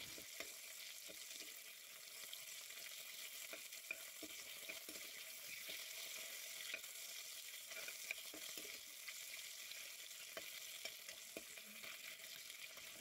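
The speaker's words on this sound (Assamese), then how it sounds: "এতিয়া কেৰাহীত মিঠাতেল গৰম কৰি মাছকেইটা অলপ ইলুটি সিলুটি কৰি লওঁ।" Magur fish frying in hot mustard oil in a wok, a steady close sizzle with scattered crackles and pops running throughout, no talk over it.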